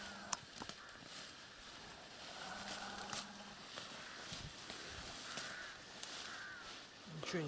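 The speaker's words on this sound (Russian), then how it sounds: "Вон они как гоняются друг за другом, смотри. Ястреб и ворона." A crow chasing a hawk outdoors gives repeated harsh caws, fairly faint and distant, with a low voice and light rustling in the background.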